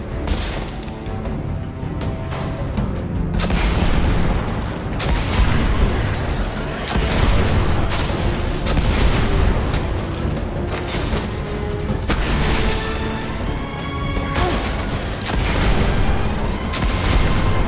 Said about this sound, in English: Scorch cannon. Powerful and very rare indeed.